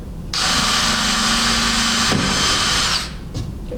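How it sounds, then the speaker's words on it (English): Power drill boring straight through wood while installing a face frame and top, a loud steady whine that runs for nearly three seconds, shifts pitch partway through, then cuts off, with no talk. "then I'm going to drill all the way through."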